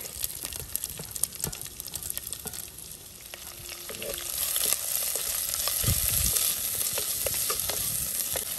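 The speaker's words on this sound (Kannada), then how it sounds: "ತೆಂಗಿನೆಣ್ಣೆ 1 ಚಮಚದಷ್ಟು, ಕರಿಬೇವಿನ ಸೊಪ್ಪು, 1 ಈರುಳ್ಳಿನ ಹಾಕ್ತಾ ಇದ್ದೀನಿ." Onion and curry leaves frying in a spoonful of coconut oil for a Mangalorean chickpea and dry shark sukka, a steady close sizzle and crackle with occasional stirring scrapes, growing slightly louder toward the end.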